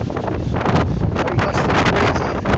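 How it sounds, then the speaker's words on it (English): Strong wind gusts across the microphone on a walk over Tower Bridge in London, a loud continuous roaring buffet with no pauses and no voices. "Wind blowing."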